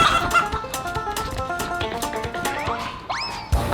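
Chickens cluck and squawk close by at a horse shelter, a busy run of short, choppy fowl calls with a sharper rising squawk near the end, amid light rustling.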